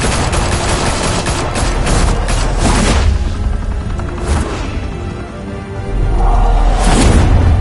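Loud, sustained gunfire from the Batman Telltale Series video game: rapid automatic bursts and booming shots pile up into a dense fusillade that eases briefly, then surges back heavy and close.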